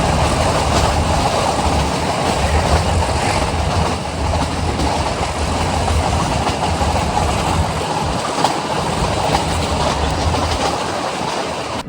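A meter gauge train rumbles through the Gir forest, its wagons giving a loud continuous roar with faint wheel clatter, heard from on board and steady throughout.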